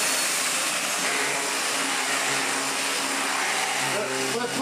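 A vacuum cleaner with an electric hose powerhead runs steadily and loudly, a constant broadband roar with a faint hum on top and no break.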